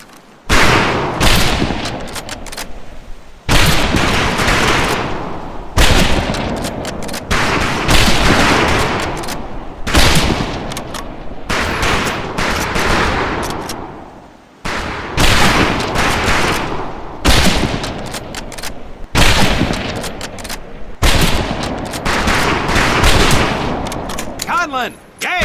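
Rifle fire on a shooting range in Medal of Honor 2, with loud close bursts of shots in repeated volleys separated by brief pauses across the whole stretch.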